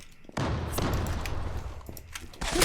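A grenade detonates close by in the online shooter Zula: a loud, broad boom bursts in after a short quiet lead-in and rolls on with crackling, gunfire-like rumble until a second surge near the end.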